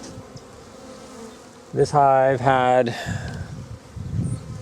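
Saskatraz honeybees hum steadily around an opened hive, a continuous close drone with a brief spoken word partway through.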